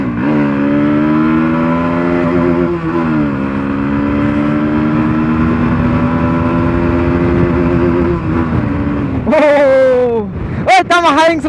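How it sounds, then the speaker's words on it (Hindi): A Bajaj Pulsar NS160 BS6 motorcycle with a modified exhaust holds a loud, steady rev up close for about nine seconds, drops, then gives a few sharp blips of the throttle. "खींच लेता हूँ बाइक को।"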